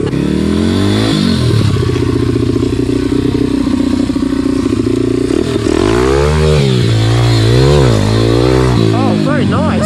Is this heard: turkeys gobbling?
no